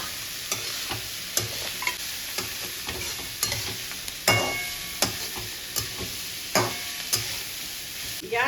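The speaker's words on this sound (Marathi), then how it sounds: "भाज्या 1 ते 2 मिनिट जरा परतून घेऊया" Vegetables and pieces of boiled potato sautéing in a pan for vegetable pulao, with a steady close sizzle and regular scraping strokes of a spoon stirring, and no one talking.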